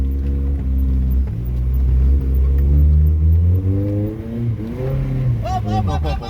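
An off-road car's engine revs loud and close on a muddy trail, its pitch rising and falling in repeated surges; a voice calls out briefly near the end.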